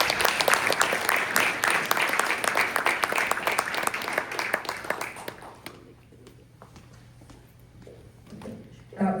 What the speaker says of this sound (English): Can we give a round of applause again for our artists?